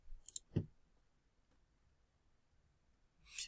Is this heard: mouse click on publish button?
yes